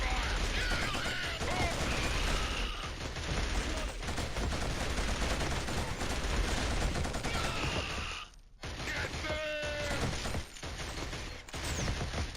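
Gunfire in Killzone, with a long loud barrage of rapid shots and mechanical clatter, broken by a short pause before the firing resumes.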